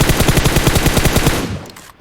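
Rapid automatic gunfire from a battle-royale video game, a loud, steady burst of around twenty close shots in quick rhythm that stops abruptly and leaves quieter game noise, with no talking.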